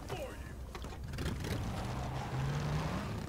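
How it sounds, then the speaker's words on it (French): A motorcycle engine in the fighting video game Tekken 8 revs and pulls away, a rising mechanical drone over busy game effects and music. "Il part avec sa moto, nickel."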